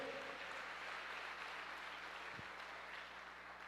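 A church congregation applauds together during a sermon, a steady wash of clapping from many hands at moderate distance, continuous and even throughout with no voices rising above it.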